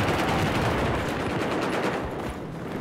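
Dense, continuous gunfire from the Battlefield 4 video game, loud and sustained over the whole moment with no talk.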